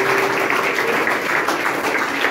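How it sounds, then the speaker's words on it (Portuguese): Church congregation applauding during a pastoral ordination service, a steady dense clapping from many hands that fills the room throughout. "Uma salva de palmas ao Senhor por ter ouvido"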